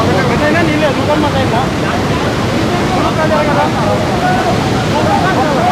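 Water rushes loudly through the opened gates of the Chagallu Dam, a steady, dense roar that stays close and unbroken throughout.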